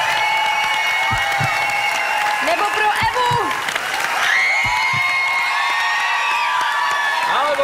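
Audience applause with cheering and whoops at the Superstar 2013 televised singing-contest finale, greeting the jury; a dense, loud crowd wash under music, with voices rising partway through.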